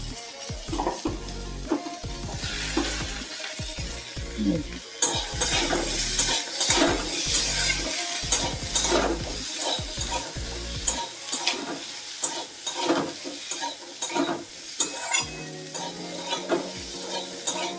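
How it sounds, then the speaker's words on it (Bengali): Potatoes, beans and carrots sautéing in a pan with ground coriander spice paste, a continuous sizzle broken by frequent clanks and scrapes of a spoon against the metal, close and busy throughout with no talking. "এবার আলু, বিনস আর গাজরগুলো দিয়ে একটু কষাবো, একটু ভাজবো।"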